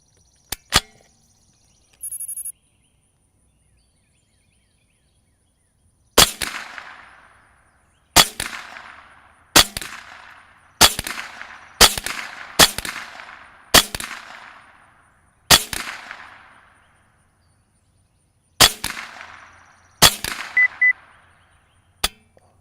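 Rifle shots fired at an orange bullseye target on an outdoor shooting range while sighting in a Zeiss Conquest V4 1-4x24 scope: about ten sharp, loud cracks at irregular intervals, each trailing off in a short echo, with quiet between.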